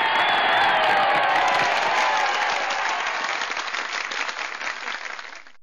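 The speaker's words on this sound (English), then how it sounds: "No, I have an applause track." Recorded applause track played back, a loud burst of crowd clapping with scattered cheers and whoops that swells at first, then fades out gradually toward the end.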